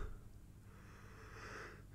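A person yawns up close, a long breathy drawn-out exhale heard alone against a steady low hum.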